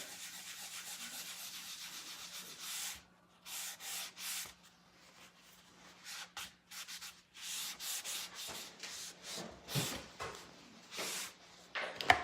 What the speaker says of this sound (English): this is the grunge gray wax going over it